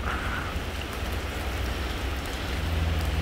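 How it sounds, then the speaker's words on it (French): A dense, continuous patter of hailstones strikes hard surfaces in Monaco in a steady hiss, with a low rumble underneath and no voices. "Ah d'accord, très bien, la tempête de grêle."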